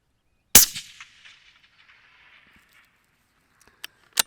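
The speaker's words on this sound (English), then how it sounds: "we're just going to send one last shot down at that 465" Single sharp rifle shot fired at a long-range target at dusk, a loud crack with a trailing echo rolling away into an open quiet, followed by faint distant ticks.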